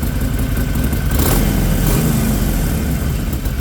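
A 2020 Harley-Davidson XL 1200X Forty-Eight motorcycle engine revs loudly and steadily, a deep throaty rumble that swells briefly before settling back into a constant roar.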